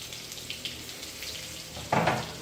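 Garlic is dropped into hot oil already crackling with mustard seeds and cumin, a steady, soft background fizz with faint pops that suddenly flares into a louder hissing sizzle as the garlic goes in.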